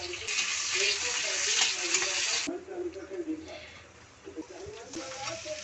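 Onion and vegetables frying in a kadhai, a bright hiss that cuts off midway and resumes later, with someone talking over it throughout.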